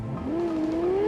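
A sports car, the Caliburn in Cyberpunk 2077, drives with a rising engine tone that climbs and holds steady as it accelerates, loud and close.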